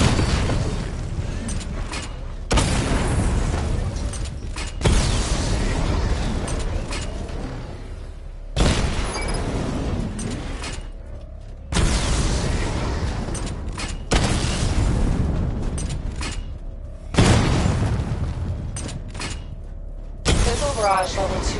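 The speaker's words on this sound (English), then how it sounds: "Charge the missile barrage to level 2 to destroy up to 4 targets at once." Missile barrage explosions in Batman: Arkham Knight, heavy booming blasts arriving one after another every two to three seconds, each loud burst fading before the next.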